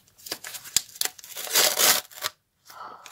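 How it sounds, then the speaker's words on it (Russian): A paper surprise packet for a paper doll is torn open and unwrapped up close, with repeated crinkling, rustling and tearing, then a short pause before more soft crumpling. "И давайте распакуем наконец-таки наш пакетик."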